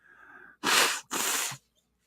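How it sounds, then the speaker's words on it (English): Two quick, sharp sneezes in a row from one person indoors, close and fairly loud, after a short faint breath. "The sneezing has begun."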